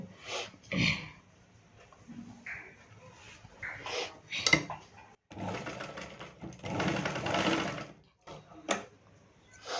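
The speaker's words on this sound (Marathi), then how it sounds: "हे आपण आस्तीनला असं शिलाई मारून घ्यायचं" Sewing machine stitching a blouse sleeve in short bursts, one longer run of rapid clatter near the end, with handling clicks and small knocks between the bursts, close by.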